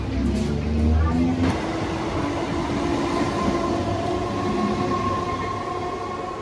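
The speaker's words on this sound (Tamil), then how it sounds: "ஸோ ட்ரெயினுக்காக வெயிட் பண்ணும்." Train pulling in at an MMTS suburban rail platform, a steady rumbling roar with low rolling drone and faint clatter, loud and close throughout, with brief voices early on.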